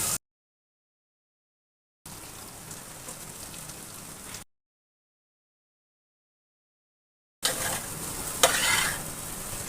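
Raw jackfruit pieces, squeezed of water, sizzle as they are stirred in a pan of oil with curd and tomato, a soft crackling fry with scraping stirs, broken by silent gaps.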